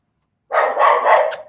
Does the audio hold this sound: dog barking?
yes